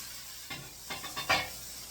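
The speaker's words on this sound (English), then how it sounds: "We're going to put the burger patties right on in, and we just want to brown them up" Burger patties sizzle and brown in a hot pan, a quiet steady hiss with a few soft scraping bursts as they are placed and shifted, no voices.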